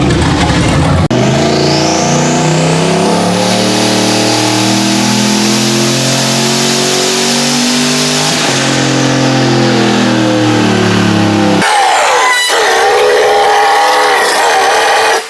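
A tuned turbocharged truck engine revs hard and holds high, loud and close for about ten seconds, with a rising turbo whine, then drops off sharply with a brief whoosh and settles back.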